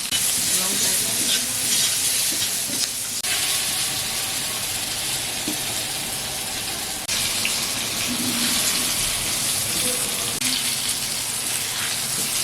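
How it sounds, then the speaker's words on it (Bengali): Eggplant seasoned with turmeric fries in hot oil, giving a steady broadband sizzle and hiss that carries on for the whole stretch, with a few faint clatters underneath. "হলুদ দিয়ে বেগুনটা ভেজে নেবো"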